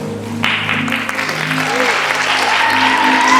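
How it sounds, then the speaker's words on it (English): A school audience at a primary school prefect investiture in Nairobi applauds the newly appointed prefects, steady clapping that builds and stays full, with a sustained musical or amplified tone humming beneath it. "May I take this opportunity to once again applaud all the newly appointed prefects."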